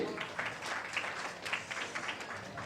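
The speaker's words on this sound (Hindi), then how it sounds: "जोरदार तालियां हो जाए ऋषि के बहन के लिए." A sangeet audience applauds the groom's sister in a steady wash of clapping that runs the whole time, moderately loud in a large room.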